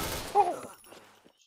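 A short burst of gunfire from the Point Blank shooter video game, a sharp crack followed by a fading tail, with a voice faintly present.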